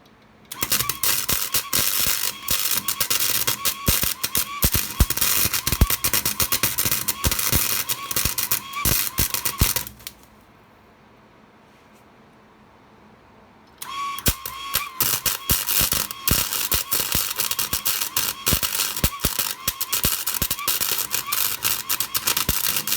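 A Parkside PFDS 33 B3 flux-core MIG welder runs at 70 A on galvanized steel angle pieces, giving a loud continuous crackling and sputtering arc that stops for about four seconds midway, then resumes just as harshly.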